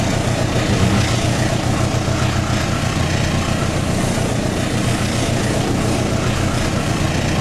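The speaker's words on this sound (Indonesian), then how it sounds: "Dengar gimana itu suara mesin yang bekerja ini." A KA Serayu train locomotive engine runs steadily and loudly throughout, a continuous heavy rumble with constant drone and no talk.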